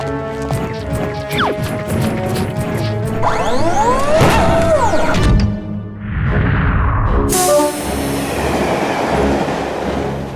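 Cartoon sound effect of a train departing, with loud, busy clattering and whistle-like sweeps rising and falling over a continuous rumble, then a brief dip before a bright hiss and renewed rolling noise. No speech.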